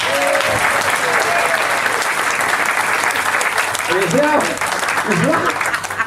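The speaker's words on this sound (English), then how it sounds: "So, nice round of applause for John." An audience gives a sustained round of applause for the lighting and sound technician at an amateur stage show, loud continuous clapping with a few voices calling out over it.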